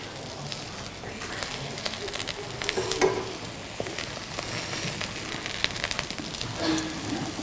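Eggplant sizzles steadily in a frying pan, a soft continuous crackle with occasional louder pops and faint clinks as pieces are turned; fairly quiet throughout, with no speech.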